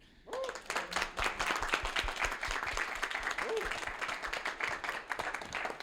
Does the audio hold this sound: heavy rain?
no